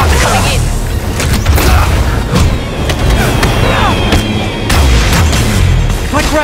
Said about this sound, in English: Gotta grab those bombs as she's dropping them. More bombs coming in.